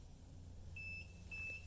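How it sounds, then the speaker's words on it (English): Two short, high electronic beeps close together from an orienteering timing station, over a low background hum, fairly faint. "Once it beeps, it's set."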